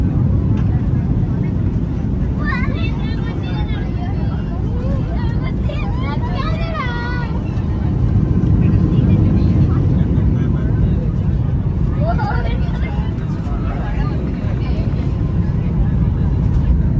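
Airplane cabin during turbulent flight, a loud, steady low roar of engine and airflow filling the whole stretch, with passengers' voices talking over it at times.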